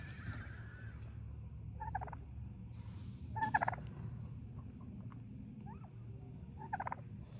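A male turkey gobbles outdoors near hens in several short, rattling bursts spread across a steady low background rumble, with one louder gobble standing out.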